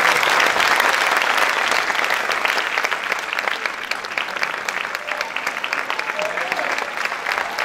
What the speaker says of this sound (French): Les applaudissements pour Walid Bouledi